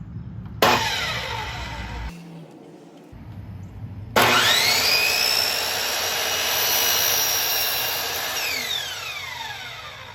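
A power saw rips a straight cut down a board in frame construction, two loud bursts of whining, high-pitched blade noise with the pitch dipping and recovering as it bites, separated by a short pause, with no talking.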